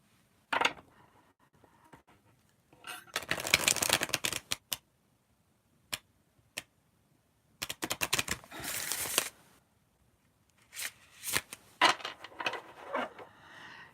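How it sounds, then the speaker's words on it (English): Playing cards riffle shuffled close by, several crisp fluttering bursts separated by short pauses and lighter taps of the deck being squared, with no talking. "And I'm going to riffle shuffle."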